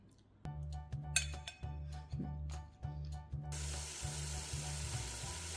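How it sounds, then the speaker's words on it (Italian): Olive oil with chopped onion sizzles steadily in a pan, a continuous crackling hiss that grows broader and louder partway through, with a low hum and occasional clinks underneath. "Soffriggere una cipolla tritata in circa 4 o 5 cucchiai di olio extravergine di oliva."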